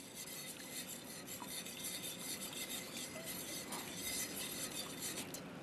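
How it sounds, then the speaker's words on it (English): A wire whisk beats Korean rice sauce in a pan, giving a quiet, continuous scratchy swishing with faint metallic ticks against the pan, and no voices. "I'm switching from a spatula to a whisk."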